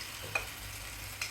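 Hilsa fish curry with mustard paste cooking in a pan, a soft continuous sizzle with two faint utensil taps against the pot, quiet and steady.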